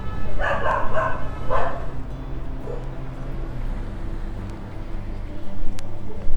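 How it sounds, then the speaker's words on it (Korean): A couple of sharp dog barks ring out early in a residential alley in Seoul, then fade into a low rumbling background with faint distant noises. "강아지들 시끄러"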